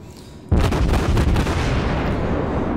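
Heavy cruiser Hipper's main battery guns open fire in World of Warships, a loud sudden broadside boom that swells into a dense, sustained rumbling roar of naval gunfire with no talk over it.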